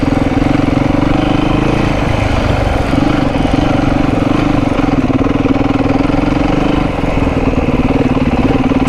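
A Beta 390 dirt bike engine lugging at low revs in third gear, a loud, steady, deep chugging drone that holds constant throughout with no talk.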